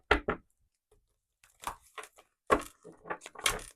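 Tarot cards being shuffled close by, with crisp papery riffles and crackling bursts in several uneven rounds, between brief pauses.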